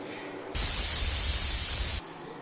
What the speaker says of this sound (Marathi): आता पाणी टाकून देऊ